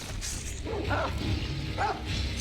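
A dog barks a couple of times in Sekiro, sharp yaps over a steady low game rumble.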